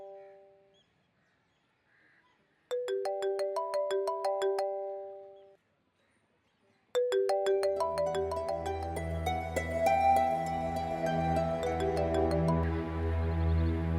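A bright electronic ringtone melody plays in repeating phrases with short pauses between, growing fuller and louder as it continues.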